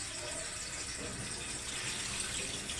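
Rice being washed under running water in a home kitchen sink, a steady gushing and splashing stream throughout, moderately loud and close.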